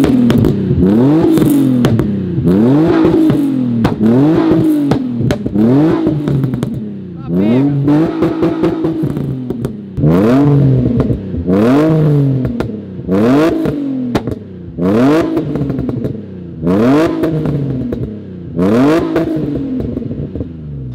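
Modified drift car with a new exhaust revving hard in repeated rising and falling bursts, loud and close, about a dozen throttle blips over twenty seconds with no talk.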